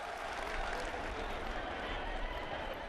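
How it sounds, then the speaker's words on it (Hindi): A large audience breaks into loud, sustained applause for the Prime Minister, a dense, even wash of clapping across a crowded hall that holds steady the whole time. "दोनों हाथ ऊपर उठा के जोरदार तालियों के साथ प्रधानमंत्री जी को हम शुभकामनाएं दें"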